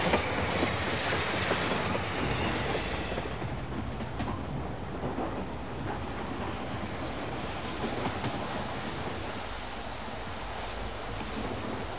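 A train rumbles steadily along the rails with a continuous rushing roar and faint rhythmic clatter, heard from inside a carriage.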